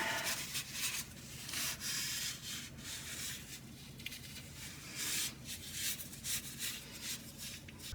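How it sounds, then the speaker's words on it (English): A rag wiping down a Cadillac Escalade differential cover in a fluid change, producing close, brisk rubbing and scrubbing strokes in uneven bursts, with no talking. "wipe down whatever you can."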